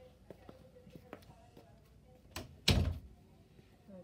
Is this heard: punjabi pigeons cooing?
no